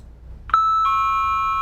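A doorbell rings indoors with one bright chime, then a second longer chime that rings out and holds, loud and close, with no talking.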